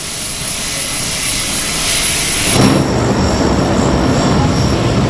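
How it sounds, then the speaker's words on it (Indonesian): Engines of a Hercules A1318 military transport aircraft roar steadily and loudly, a dense broadband drone that swells partway through and holds, with no voices. "Pesawat Hercules"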